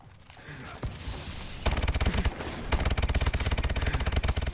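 Rapid machine gun fire in a video game, dense bursts of automatic shots that grow louder and more continuous toward the end, with no one talking.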